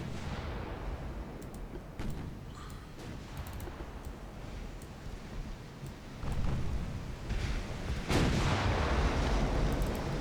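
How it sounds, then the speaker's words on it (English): Warship guns of all calibres firing in Ultimate Admirals: Dreadnoughts, a run of heavy booming blasts over a rumbling battle din, growing louder with a big salvo near the end, with no voices. "All my big guns and all my small guns are firing on these guys right now."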